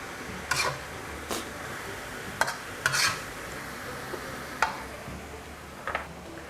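Northern Thai pork larb dry-fried in a pan, with a faint steady sizzle beneath a handful of sharp spatula scrapes and taps spaced irregularly across several seconds, no voices.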